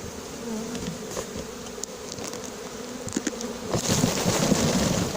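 A honeybee swarm is shaken from a cardboard box into a hive. The insects make a dense, continuous buzz that hovers close by and swells louder toward the end, with no voices.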